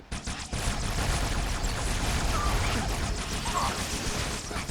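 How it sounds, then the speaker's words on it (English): Covenant marksman rifle in Halo 2, heard as dense, continuous game gunfire and impacts that fill the whole stretch after a brief quieter start, loud and close with no clear gaps between shots. "it is full on just the Covenant's marksman rifle"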